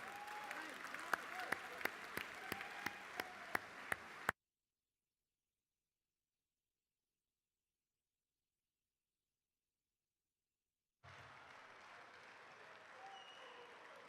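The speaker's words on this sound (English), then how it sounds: "Give him a warm round of applause to respond." Applause from a gala dinner audience for Wellington College's 150th celebrations, a few seconds of steady clapping with loud sharp claps, then silence, then softer applause resuming near the end. Voices are mixed in.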